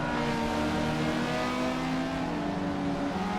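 Race cars roar through a lap in the racing game Assetto Corsa EVO, a steady, loud, close engine drone with rising and falling pitch, no voices.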